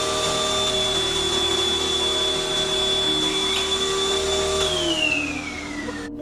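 Vacuum cleaner running steadily inside a house, picked up by a CCTV camera, a loud continuous motor whine with one steady pitch that drops off toward the end as the motor winds down.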